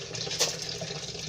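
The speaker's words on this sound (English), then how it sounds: "I like to pre-wash the rice, like to get all the powdery stuff" Water runs steadily from a kitchen tap over rice being pre-washed in a pot before cooking, a short, close splashing rush with a brief louder spurt.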